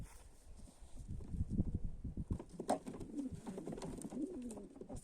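Low, throaty cooing from pigeons nearby, repeating in soft rolling bursts with some wing flutters and shuffling in the background.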